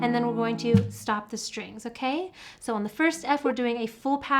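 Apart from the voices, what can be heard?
No everyday noise stands out behind the speech.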